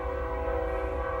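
A train passes close outside, its horn sounding as a steady, loud tonal blast over the low rumble of the rail cars for the whole moment, with no talking.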